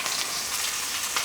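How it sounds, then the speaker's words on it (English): Lamb shanks sizzle and fry in a hot pan during braising prep, a steady broadband crackle holding at an even level throughout with no voices over it. "I could hear that lamb sizzling. Sounds amazing."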